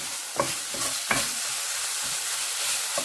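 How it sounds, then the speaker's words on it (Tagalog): Shrimp paste (bagoong alamang) sautéed in a pan, a continuous soft sizzle with a few quick scraping strokes of a spatula near the start and one near the end. "Igisa lang natin ang bagoong alamang."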